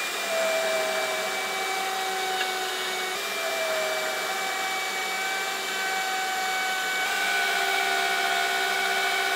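Cutting mortises in wooden table legs with a power tool: a loud, steady whining drone holds throughout at close range, its pitch shifting slightly a couple of times, with no talking.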